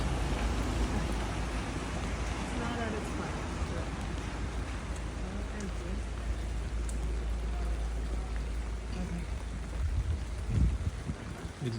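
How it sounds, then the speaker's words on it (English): Rain falls over the streets of Sulmona, Italy, a steady, dense outdoor hiss of drops with a low rumbling undertone throughout. There is a brief louder patch near the end. "of Sulmona in the rain"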